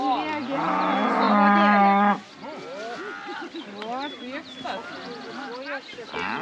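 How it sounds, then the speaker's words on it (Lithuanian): Cows moo loudly and close while running back home in a Lithuanian village, a long, sustained bellow followed by people chatting over fainter background animal noise. "O, žiūrėkit, kaip parbėga karvės visą."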